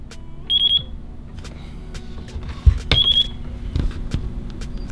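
Short bursts of rapid high-pitched electronic beeps from an FrSky receiver in binding mode on a KingKong ET Series V2 drone, repeating in a quick triple pattern twice, over faint background noise and a few soft clicks.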